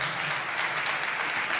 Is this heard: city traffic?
no